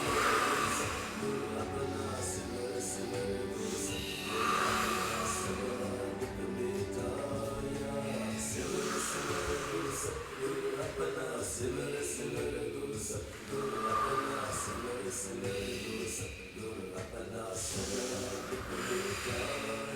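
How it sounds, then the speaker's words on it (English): Group at an in-person yoga and qigong class breathing together, slow rhythmic cycles of nasal inhales and blown-out exhales repeating every few seconds, with an instructor's voice and soft background music. "Inhale through the nose, exhale, blow it out."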